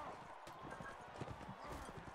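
Horses galloping in the medieval combat game Mount & Blade, a quick rough drumming of hooves across the whole moment under a voice speaking Czech.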